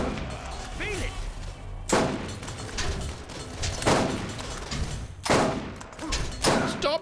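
Gunfire in Borderlands 1, several heavy bursts and booms over a dense rumbling battle din, with faint voices in the mix.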